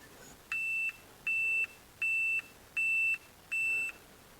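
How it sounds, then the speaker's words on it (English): Five evenly spaced electronic beeps from a REDTIGER F7N 4K dash cam with no SD card inserted, short and high-pitched, sound alone against a quiet background. "So it's beeping because there is no SD card in there at the moment"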